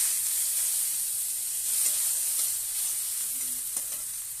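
Onions sizzle in a hot kadai with a constant crackling hiss, broken by occasional stirring scrapes and clinks.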